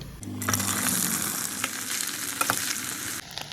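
Okra hits hot oil after mustard seeds pop and sizzles loudly and continuously, with occasional pops and stirring clatter up close.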